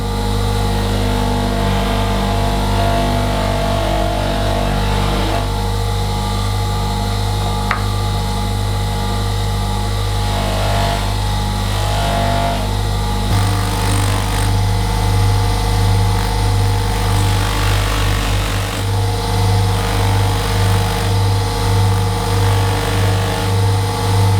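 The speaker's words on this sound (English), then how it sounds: "We're now ready to polish the ear mould, and it's important when we're grinding and using the materials" A motorised grinding and polishing machine works an acrylic ear mould, giving a loud, steady mechanical drone with a constant hum throughout and slight shifts in pitch, heard close up with no voices.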